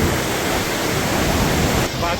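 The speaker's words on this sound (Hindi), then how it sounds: "देख सकते हैं कितनी ज़ोर का पानी का बहाव होगा।" Strong rushing river water roars loud and constant beneath the bridge at Kedarnath, a dense broadband wash filling the whole clip with no pauses.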